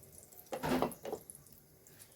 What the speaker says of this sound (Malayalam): പാത്രം ചൂടായിരിക്കുന്ന കുറച്ച് വെളിച്ചെണ്ണ ഒഴിച്ച് കൊടുക്കാം